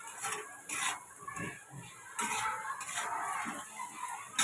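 Shingi fish curry being stir-fried (kosha) in a pan: soft, uneven scraping and sizzling strokes in irregular bursts, quiet and close, with no voices.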